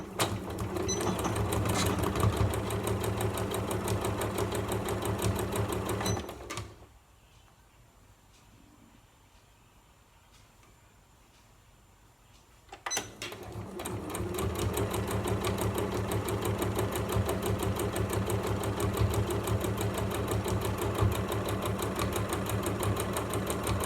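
A sewing machine stitches fabric with white thread in a long steady whir, stopping for several seconds in the middle and then starting again, close and even.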